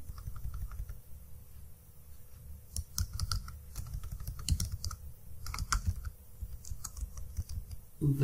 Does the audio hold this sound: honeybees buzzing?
no